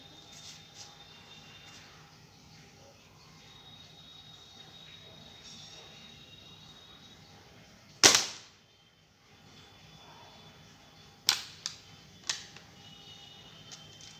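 Sharp shots from a Gennenx Pro gun ring out one at a time, a single loud crack followed a few seconds later by two or three more, against a quiet outdoor background.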